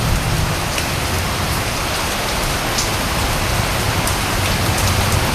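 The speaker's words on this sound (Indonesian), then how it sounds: "ini mulai hujan deras banget guys" Heavy rain pours outside a camping tent in a steady, dense hiss that holds the same level throughout, with no voices.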